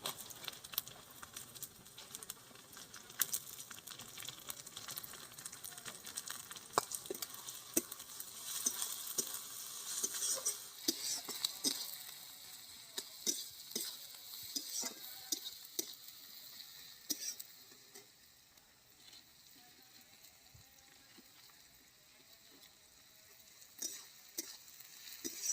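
Chopped onions fry in a pan for a duck curry, a soft continuous sizzle broken by scattered clicks and scrapes of stirring, fairly quiet and close, easing off toward the end.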